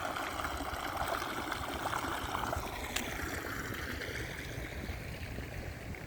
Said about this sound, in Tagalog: Para natuloy ditong ilog. Ang lakas ng alon.